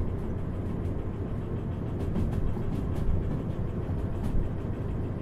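Rolling freight cars in the railway simulator Derail Valley, played in VR: a steady low rumble of wheels on track with faint periodic clicks, continuous and fairly close, no speech.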